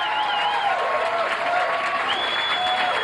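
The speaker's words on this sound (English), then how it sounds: "How about a nice round of applause?" Audience applause greets comedian Tim Bedore on a 1988 TV comedy show at Laughs Unlimited in Sacramento; dense, steady clapping fills the room for the whole stretch, with faint tonal music-like lines threading through.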